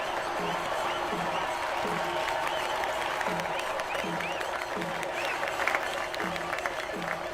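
Steady, continuous applause from an audience fills the whole stretch, with a rhythmic low thumping repeating underneath.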